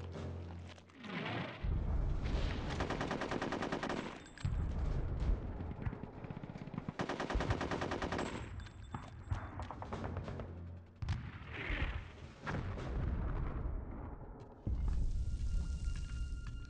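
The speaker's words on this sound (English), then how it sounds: "squirrel with a couple machine guns" Machine gun fire in the video game Conker's Bad Fur Day, with loud rapid bursts of gunfire and booming blasts in several long stretches separated by short pauses.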